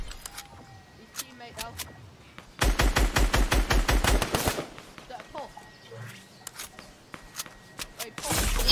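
Rapid bursts of automatic gunfire in a video game, a loud sustained volley in the middle with scattered shots before and after, heard alongside a player's voice.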